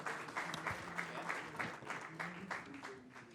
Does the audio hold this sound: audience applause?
yes